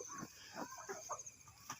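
Chickens kept on bare dirt at a Thai farm give soft, scattered clucks, quiet and close, in short bursts over a faint background hiss.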